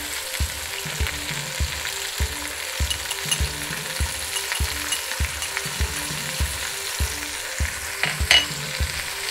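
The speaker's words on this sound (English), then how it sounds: "you are going to cook these until the onions turn a bit translucent" Onions and garlic frying in a pan for Jamaican curry chicken, a steady close sizzle with regular stirring scrapes and light clinks repeating every half second or so.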